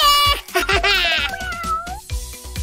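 Kittens meowing in a cartoon, several high, clear meows rising and falling in quick succession over a bouncy music beat.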